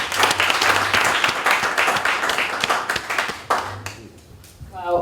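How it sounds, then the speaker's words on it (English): Audience applause at an awards ceremony honouring an outstanding achievement, a dense wash of many hands clapping steadily for several seconds before thinning out, with a voice beginning to speak at the very end. "give Tony just a huge round of applause for this initiative"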